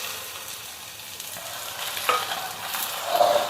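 An onion-potato paratha fries in ghee on a tawa, giving a steady soft sizzle with faint stirring and scraping, close and fairly quiet, with no voices.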